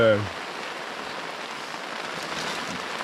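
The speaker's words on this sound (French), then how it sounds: "Il pleut." Steady rain falls in Sardinia in a constant soft hiss, pattering evenly on surfaces nearby, after a brief voice at the very start.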